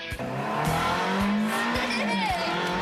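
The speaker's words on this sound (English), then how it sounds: "I got a Formula One Ferrari out in the parking lot" A Formula One Ferrari driving, its engine droning and rising in pitch with tire squeals and rhythmic thumps, loud and close throughout.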